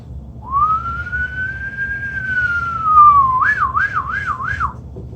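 A rising whistled tone holds steady and then breaks into a quick wavering warble, like a siren imitated by a person whistling alone.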